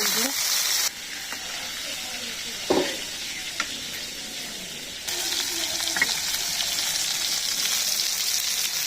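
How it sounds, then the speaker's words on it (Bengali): Fish pieces coated with turmeric sizzle and fry steadily in oil in a pan in a village kitchen, a continuous close hiss with a few soft clinks and stirring touches. "এইভাবে ভাজলে পরে মাছটা খাইতে সুস্বাদু লাগবে"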